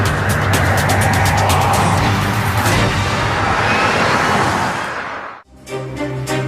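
Tesla Model S electric car driving on a road, a loud continuous rushing of tires and wind that slowly fades before a brief drop, then a short burst of another vehicle sound.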